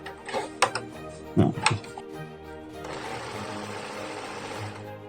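A CHALI 1216 portable electric sewing machine stitching through thick folded denim: a few short clattering bursts, then a steady, fairly loud mechanical whirr of the needle running continuously, with no talking.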